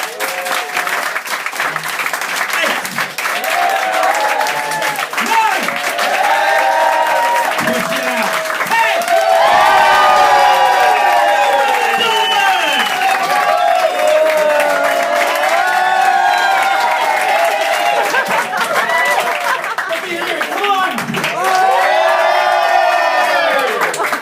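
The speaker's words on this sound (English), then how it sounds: "Let's hear a level 7 round of applause." An audience at a stand-up comedy debut breaks into a loud, sustained round of applause with cheering and whoops, dense clapping filling the whole stretch with shouts rising above it.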